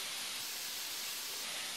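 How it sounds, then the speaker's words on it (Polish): Soft steady sizzling hiss of leeks frying in a pan, faint and continuous with no other sounds. "I razem będę smażyć do zeszklenia"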